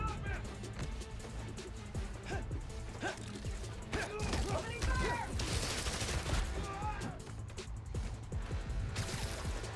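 Enemies shooting guns during combat in Spider-Man: Miles Morales; dense, continuous gunfire crackles with thuds and crashes mixed into a busy game soundtrack, with voices in the background.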